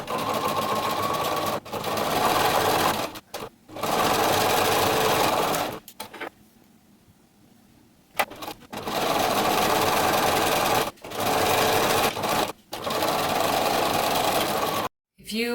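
A sewing machine stitches a knit fabric headband in several loud, close bursts of rapid mechanical whirring, broken by short stops and one longer quiet pause.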